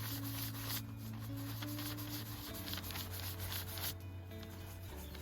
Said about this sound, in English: the ink's forced into the lines and the excess ink comes away onto the wiping canvas